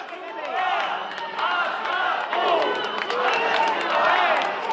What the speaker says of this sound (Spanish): Empujones, abucheos, insultos y gritos de fuera, fuera.